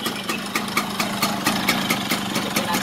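Yamaha Speed 120 motorcycle engine idling close by, a steady mid-pitched putter with regular rhythmic pulses and slight knocking, still flooded with fuel spitting from the exhaust.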